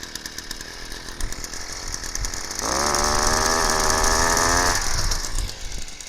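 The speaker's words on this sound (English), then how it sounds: "Now I hope you can hear me okay with the engine running" Thor tent stake driver's small engine idles, then revs up into a loud, steady buzzing drone for about two seconds before dropping back to a rattling idle, heard close with no talking.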